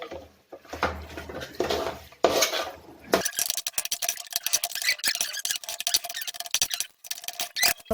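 Spoon scraping and clinking against a pot as tapioca is stirred into cooked meat for kappa biriyani, rapid close metallic taps and scrapes after a few softer mixing sounds.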